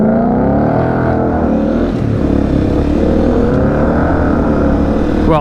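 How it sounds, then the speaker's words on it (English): Honda CRF250L dirt bike with an FMF exhaust pipe, its engine running loud and steady with a continuous harmonic drone and slight pitch wavering, close by with no talk. "Well, even with my FMF pipe, my bike doesn't sound that cool."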